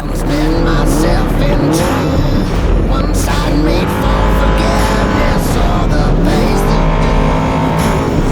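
Off-road trophy truck racing at full throttle, with a loud, continuous engine roar rising and falling as it climbs through gears, plus scrabbling tyre and chassis noise throughout, close and dominant.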